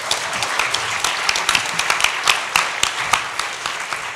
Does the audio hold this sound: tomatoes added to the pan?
no